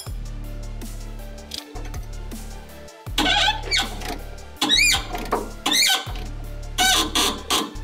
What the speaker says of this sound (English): That's the torque squeal.